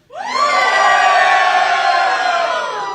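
A live studio audience at a college football show cheers and whoops for Georgia, a sudden loud, sustained roar of many voices lasting about three seconds before tapering slightly.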